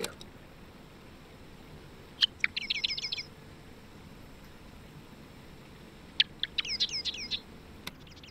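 Birds chirp in two bursts of quick, high trilling calls within a video game's city scene, each flurry lasting about a second against a quiet background hiss, with a few sharp isolated clicks in between.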